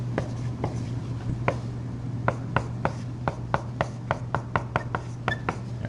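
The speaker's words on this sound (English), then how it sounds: "I am going to write one more step" Pen or marker strokes writing out a math step, a series of soft, irregular taps and scratches over a steady low hum.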